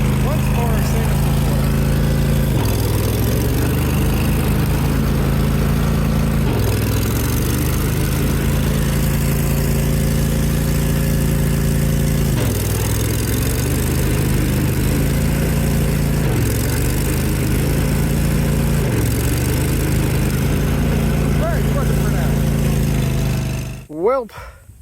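A John Deere GT245 lawn tractor engine runs steadily and loudly up close during a test drive after an electronic clutch retainer repair, with pitch dips as load changes, cutting off abruptly near the end.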